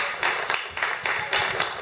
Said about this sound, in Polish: Brawa dla pana Piotra, słuchajcie.